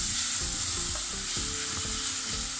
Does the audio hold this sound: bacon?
yes